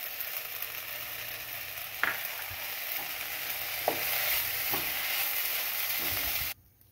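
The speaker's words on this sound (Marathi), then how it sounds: "आपण जे मिक्सर करून घेतलेलं जे पान आहे ते यामध्ये टाकून छान असं मिक्स करून घ्यायचं आहे" Grated coconut and ground betel leaf are stirred in a hot pan, giving a continuous soft sizzle with several distinct spoon scrapes and taps spaced a second or so apart, close and moderately loud.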